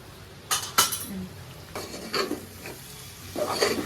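Ground coriander and cumin powder frying in oil for a Telangana-style goat head curry, a soft background sizzle broken by several scraping stirs and clinks of a spoon against the pan.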